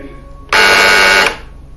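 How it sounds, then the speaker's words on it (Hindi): Quiz show buzzer on an Urdu-language quiz programme sounds once, a loud, harsh, steady buzz lasting under a second that cuts in sharply over faint room hum and stops abruptly. "सादिया नजर आपकी बजर पर।"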